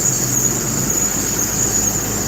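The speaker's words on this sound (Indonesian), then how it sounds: "Dump truck" A dump truck drives along a flooded road in Karang Anom, Panei Tongah, Simalungun, its engine a loud, steady rumble with a sustained high-pitched whine running over the top.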